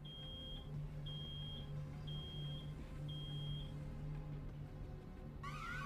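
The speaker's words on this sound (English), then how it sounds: "It's an alarm." Alarm in the video game Road 96 sounding in a reception area, a high electronic tone beeping in long regular pulses about once a second over a low steady hum.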